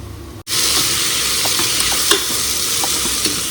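Onions and tomatoes sizzle as they sauté in a pan for a home-cooked gravy, a steady close crackle with a few stirring clinks, starting abruptly after a brief quiet moment.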